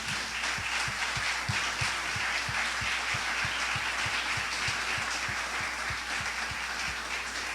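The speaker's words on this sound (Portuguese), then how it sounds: "Vamos aplaudir o Senhor pela Sua palavra." A church congregation applauds steadily for several seconds, many hands clapping in a dense, even wash with a faint rhythmic beat running under it.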